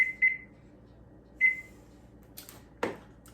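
A new kitchen timer beeps while being set for baking a chocolate walnut pie: two short high chirps, then a third a second later, followed by faint clicks and a soft thump nearby.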